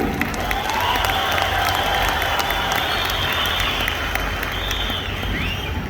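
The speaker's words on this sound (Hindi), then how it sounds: "भाई ताली अगर माने जोरदार मारी पर मत मारिए।" Loud, sustained applause from an audience at a talk or seminar, dense clapping throughout with crowd noise and no clear pauses.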